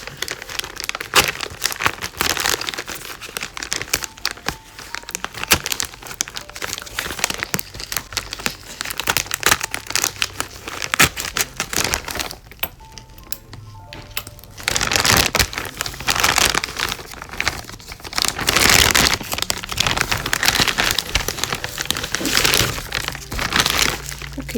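Plastic packaging around a gel polish box being cut open and pulled apart, a steady run of close crinkling and crackling plastic with a brief quieter pause midway, with no talking.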